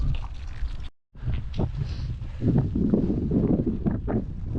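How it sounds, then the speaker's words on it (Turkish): Strong wind buffets the microphone in a steady roar during a bikepacking ride near Çatalan Dam, with a brief dropout near the start before the gusting resumes. "Aşırı rüzgar var."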